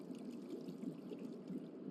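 Warm water pours steadily from a tap for face washing in the Genshin Impact game, a continuous soft splashing stream at close range with no talk over it.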